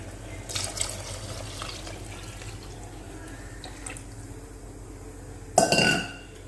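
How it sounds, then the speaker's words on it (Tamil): Water is poured into a pot of rice while making one-pot tomato rice, a bright splashing gush near the end following quiet kitchen clinks and faint background noise. "2 டம்ளருக்கு 5 டம்ளர் தண்ணி ஊற்ற போகிறேன்"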